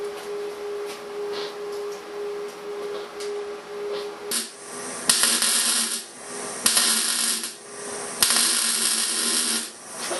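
A R-Tech Pro-MIG250-1 MIG welder laying a bead on dirty, rusty metal: a close, uneven crackling hiss with sudden loud bursts and sputters, broken by brief pauses.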